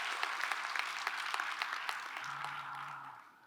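A church congregation applauds during a Sunday worship service, a dense, even wash of many hands clapping at moderate distance, steady and quietish, with a low hum near the end.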